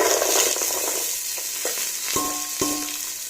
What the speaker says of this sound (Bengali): এখন সবজিগুলো ফ্রাই করে নেব